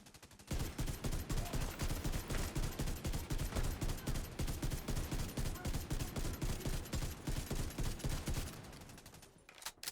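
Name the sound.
Ravenous exotic rifle firing in the video game The Division 2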